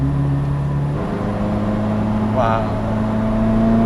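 Ferrari F40 driving slowly along a mountain road, its engine a steady low drone heard from inside the car, with a brief exclamation from someone aboard partway through.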